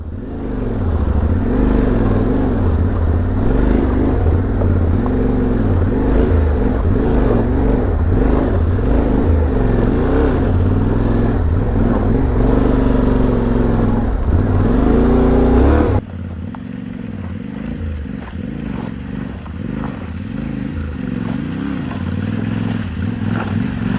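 A dirt motorcycle bogged in sticky, wet mud with its front wheel locked: the engine drones and revs loudly and close up without a break, then drops to a lower, quieter run partway through.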